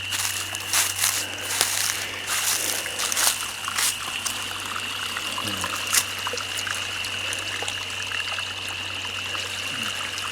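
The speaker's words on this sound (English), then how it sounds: "This is that little creek I was telling you about that was back here." A small woodland creek trickles steadily and close by, a soft continuous burble of running water with faint scattered ticks and crackles, no voices over it.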